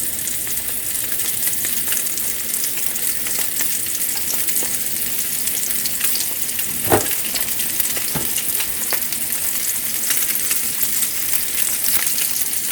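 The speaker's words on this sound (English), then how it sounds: "And then we're going to just pan fry these." Flounder fillets pan frying in a skillet, a steady loud sizzle and crackle throughout with one or two brief clatters, close and continuous with no talk.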